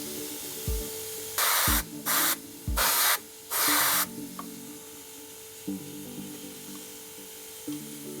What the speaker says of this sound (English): We're going to speckle these on using our Iwata HP CH airbrush